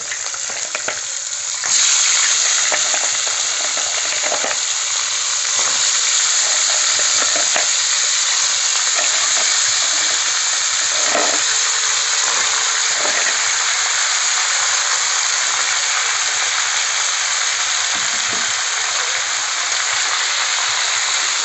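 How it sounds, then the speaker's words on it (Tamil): Crabs frying in hot oil with popping mustard seeds and turmeric for a green masala: a loud, steady, close sizzle with crackling pops and occasional stirring scrapes, no voices. "அந்த நண்டெல்லாம் அந்த எண்ணெயிலே சேர்த்துருங்க"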